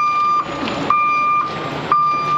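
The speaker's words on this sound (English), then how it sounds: "This is side dump truck, so this ought to be interesting when they dump it" A side dump truck hauling 25 tons of boulders for a pond build in Park City, Utah gives off a steady, loud electronic beeping tone, pulsing roughly every half second over a rumbling engine.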